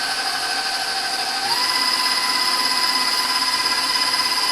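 An electric stand mixer whirs steadily while beating egg whites until foamy for a chocolate angel food cake, its motor pitch stepping up midway as the speed increases, continuous and close with no talk.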